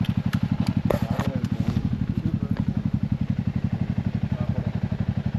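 A KTM Adventure 390 single-cylinder motorcycle idles steadily with a rapid, even thumping pulse and light mechanical clatter, close and loud, while voices speak briefly over it.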